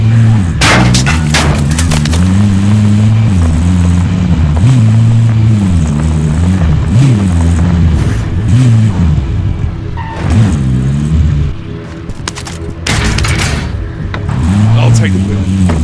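A car engine in Call of Duty Warzone drives continuously, its low drone rising and falling as it revs and shifts, with occasional sharp booms and bursts of noise cutting in.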